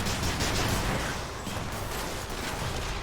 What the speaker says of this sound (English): I can just fire grenades all over the place.